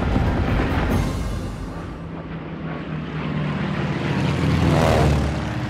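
Loud, steady drone of American bomber aircraft engines during the World War II Battle of Leyte Gulf, swelling and fading slightly as planes pass, with a rising whine near the end; no voices.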